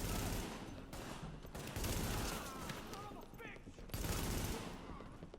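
Gunfire from the video game Tom Clancy's The Division comes in several bursts of rapid shots, separated by short gaps and mixed with game action, moderately loud, under a busy battle soundscape.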